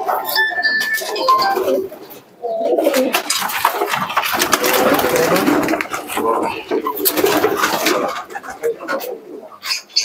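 Pigeons coo softly near a home loft, repeated throaty calls over a few seconds, with a person talking close by and faint clinks in the background.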